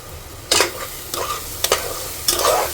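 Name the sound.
cooked chicken stirred into frying masala paste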